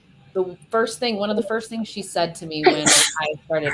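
A single sharp sneeze bursts out near the end of a conversation, close and loud, breaking into a woman's ongoing speech.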